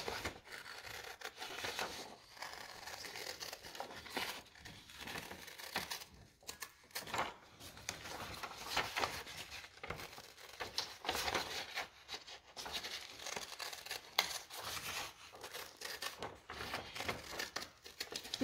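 Scissors snipping through paper to cut out a plant shape, a steady run of close, quiet crinkling cuts and rustles with short pauses, no voices.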